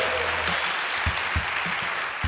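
A live conference crowd in Seattle applauds steadily, dense clapping with a few sharper claps standing out, close and sustained.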